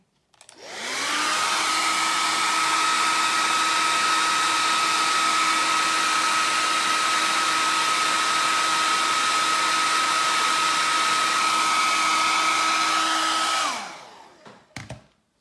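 A heat gun blows hot air onto WoodUBend moulding, a steady, loud, close whirring roar that starts up, holds for about twelve seconds, then winds down and clicks off.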